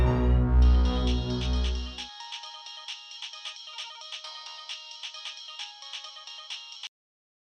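A telephone ringing after a call is placed: a low tone gives way to a bright electronic ringtone that pulses in a quick, regular pattern for several seconds and then cuts off abruptly, with no talking.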